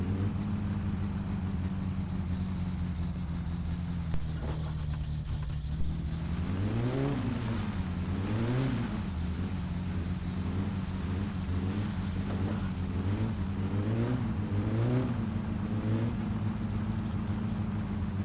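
A car engine in My Summer Car revs repeatedly as the wheels spin on dirt, rising and falling whines over a steady loud engine drone, close and continuous.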